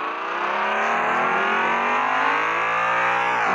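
Steady, loud engine revving with rising pitch from a motorcycle in the Traffic Rider video game, continuous and close without talk.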